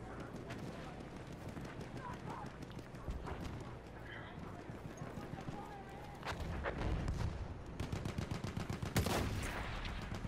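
Horses gallop in the World War I shooter game Battlefield 1, a rapid rhythmic clip-clop of hooves mixed with bursts of gunfire and distant explosions, growing louder toward the end, with a voice speaking over it.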